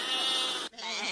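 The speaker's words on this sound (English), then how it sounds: "There are lots of sheep on the road." Sheep on a road bleat in two quick, loud, close calls, one right after the other.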